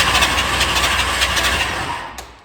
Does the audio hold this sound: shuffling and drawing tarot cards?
no